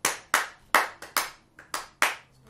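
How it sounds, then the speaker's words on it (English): Close, crisp hand claps used as a percussion instrument, about eight distinct strikes in a fairly steady pulse, each ringing briefly before the next. "clapping as another form of percussion."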